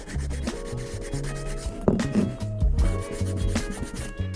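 A homemade sandpaper file rubbing back and forth against wood, quick repeated scratchy strokes close up with a few knocks mixed in, no talking.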